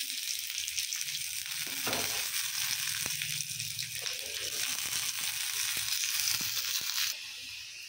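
Ginger and garlic fry in hot oil in a pan for a vegetable curry, giving a steady, close, loud sizzle that runs without a break. Occasional sharp clicks of a utensil sound over it, and no one speaks.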